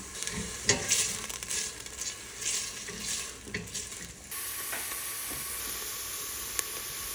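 Vegetables sauté in olive oil in a pot for tomato soup, a steady close frying hiss with intermittent stirring scrapes in the first half, then an even sizzle on its own.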